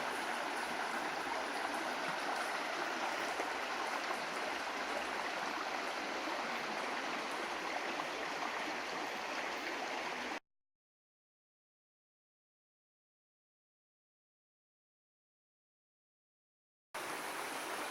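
A brook flows beside a hiking trail near a footbridge, producing a steady, fairly loud rushing wash of water that cuts out abruptly into silence for several seconds before resuming.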